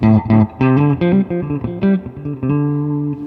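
An electric guitar, a semi-hollowbody with very high output pickups, plays a short melodic phrase of single notes with a slightly gritty, mildly distorted tone, clear and close.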